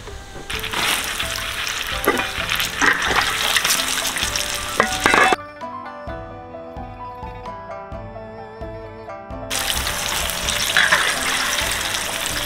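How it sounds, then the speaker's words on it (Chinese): Fruit coated in glutinous rice flour deep-frying in hot oil, a loud continuous crackling sizzle that drops away briefly in the middle and then returns just as strongly. "先沾满糯米粉先啊。 好，油炸西加果。"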